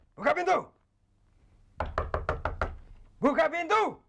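Hard knuckle raps on a door come in three bursts, the middle one a rapid run of about eight loud knocks, with no talk between them.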